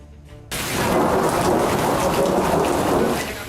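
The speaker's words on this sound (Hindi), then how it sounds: "जोरदार बारिश के साथ आकाशीय बिजली की गड़गड़ाहट" Heavy first monsoon downpour in Dwarka with thunder, a dense, loud, steady roar of rain that begins abruptly and holds throughout, low rumbles mixed into the wash.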